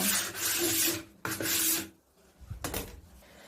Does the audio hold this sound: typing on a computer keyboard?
no